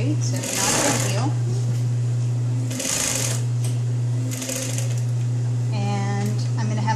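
A sewing machine stitches a curved seam in short bursts of rapid, close mechanical chatter separated by pauses, over a steady motor hum, while a person talks between the runs.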